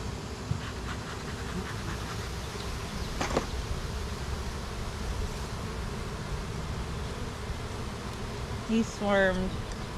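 Honey bees buzzing around a hive that recently swarmed, a steady diffuse drone with occasional louder passes of individual bees close by, with a brief higher buzzing flourish near the end.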